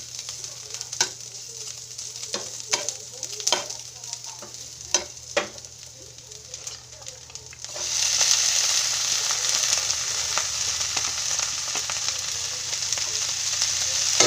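Kangkong stir-fried with leftover pork lechon in a pan, first sporadic clacks of a spatula, then a bright steady sizzle that swells and holds loudly, close by with no talking.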